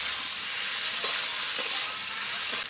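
Spice paste stirred and fried in a pan for a patol dish, a steady broad sizzle with a few soft scraping stir accents, close and continuous with no talking.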